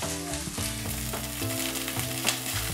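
Butter sizzling and frying in a pan for flour-dusted cod fillet cooked meunière style, a continuous close crackling sizzle with occasional stirring or scraping and no talk.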